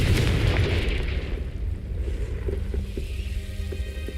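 A Confringo blasting spell in Hogwarts Legacy erupts with a loud, close boom that rumbles and slowly decays into a low background roar.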